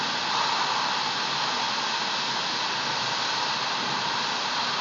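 A hot-air plastic welding gun heats an LLDPE product and welding rod together, producing a loud, steady, close blowing hiss that holds constant throughout with no talk.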